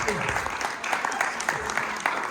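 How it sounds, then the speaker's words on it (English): Audience applause rings out at a magic show for a participant, a crowd clapping steadily with scattered louder claps, with voices talking over it. "Give Maggie a nice round of applause."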